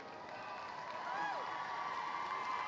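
A large graduation commencement crowd applauds and cheers, a dense continuous wash of clapping with a few rising whoops and whistles in the middle, fairly distant.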